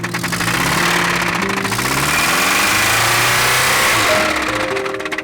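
A Toyota 22RE truck engine, failing after one week, runs steadily and loudly throughout, with a rough, uneven knocking rumble under shifting tones.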